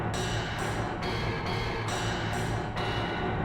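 Harsh, clanging industrial noise music from Silent Hill, dense metallic clatter pulsing in abrupt blocks, loud and unrelenting throughout.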